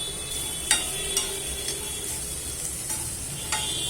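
Masala stirred and fried in a pan for street-style egg bhurji, with a continuous low sizzle and a series of sharp spatula scrapes and taps against the pan at irregular intervals, no talking.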